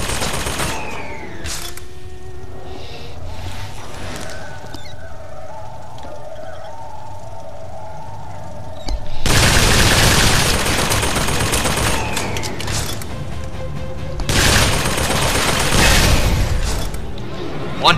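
Automated gun turret firing in the BioShock Infinite: Burial at Sea game, loud bursts of rapid gunfire and explosive impacts arriving in two heavy waves after a quieter stretch of game ambience.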